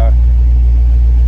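A Mercury Capri's engine runs as a loud, steady low rumble close by, holding an even drone throughout with no break.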